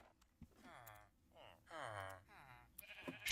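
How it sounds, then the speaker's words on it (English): Sheep bleat in a Minecraft modpack world, a few short wavering bleats spaced through the moment, close and fairly quiet, with faint game sounds around them. "Sheep on top of a house."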